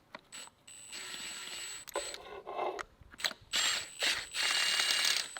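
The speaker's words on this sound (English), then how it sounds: "I'm gonna need a socket for that." Socket ratchet wrench clicking in bursts while removing a tightly torqued spark plug from an abandoned, damaged supercar's engine, the ratcheting close and busy with gaps between strokes.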